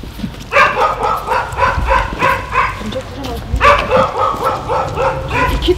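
Two large dogs bark in a cemetery at night, letting out two close, loud bursts of rapid, repeated barks separated by a short pause.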